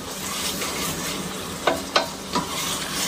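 Onions and tomatoes sauté in a pan, a soft continuous sizzle broken by a few brief scraping stirs of a spoon, with no talking.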